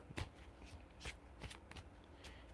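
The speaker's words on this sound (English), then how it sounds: "Let's give these a shuffle." Tarot cards being shuffled by hand, a few quick riffling bursts separated by short pauses, close and fairly quiet with no talking.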